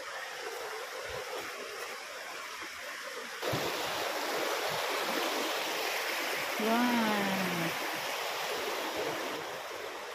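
Rushing water at Daranak Falls in Tanay, Rizal, a steady broad hiss that grows louder partway through, with a brief exclamation and bits of talk over it.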